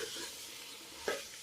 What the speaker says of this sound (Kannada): ಲಾಯ್ಕ್ ಹಾಕೊಂಡು ಫ್ರೈ ಮಾಡಿನ ತಿರ್ಗಾದು